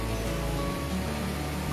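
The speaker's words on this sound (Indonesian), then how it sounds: "Ini dia air terjun." Falling water at a Cibodas waterfall gives a constant, hissing rush that stays level through the brief moment, with nothing else on top.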